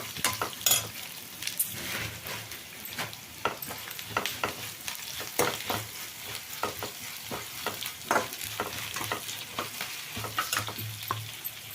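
Onions and coriander seeds fry in a pan for a country chicken curry, giving a continuous close sizzle with frequent sharp clicks and scrapes of a spoon against metal. No voices are heard.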